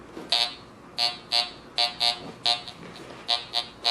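A Fisher F19 metal detector sounds a series of short, high electronic tones, about a dozen beeps in uneven bursts, as it passes over a pull tab indoors, close and clear over a low background hum.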